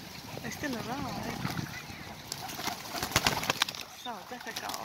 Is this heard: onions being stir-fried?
no